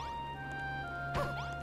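A quiet electronic soundtrack from Dragon Quest Builders 2 of steady tones, broken by one short crashing smash near the end as a building is destroyed.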